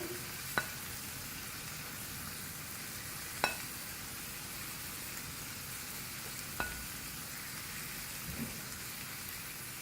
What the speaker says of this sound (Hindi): तमाम चिकन मैंने पैन में डाल दी है। और जो बाकी मसाला हमारा बचा है वो भी इसके ऊपर डाल देंगे।